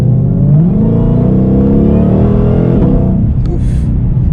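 A 2021 Shelby Mustang GT500 accelerates hard with the tires breaking loose, the loud, close engine roar climbing steadily in pitch, then easing off near the end.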